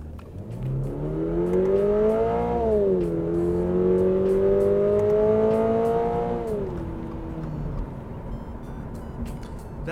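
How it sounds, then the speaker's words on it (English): Toyota GR86 sports car engine revving with active sound control, a loud, steady synthesized exhaust drone that climbs, dips briefly, holds high, then falls back to idle over about ten seconds, with no talking. "That was basically all active sound control. Very little of that was the actual exhaust of the car"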